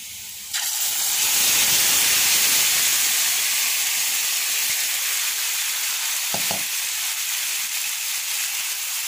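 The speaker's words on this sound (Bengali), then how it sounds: "আমি এখন সিদ্ধ করা মিক্স ভেজিটেবলগুলা এতে ঢেলে দেবো" Boiled mixed vegetables, including raw banana, potato, carrot and eggplant, are poured into a hot frying pan and set off a loud, steady sizzle and hiss that lasts throughout, with a couple of brief knocks.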